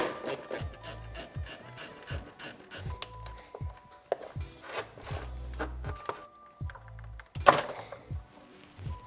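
A ratchet working a 10mm bolt on a 6th-gen Toyota 4Runner intake tube, with bursts of rapid close clicking separated by pauses and a few soft knocks of the tool.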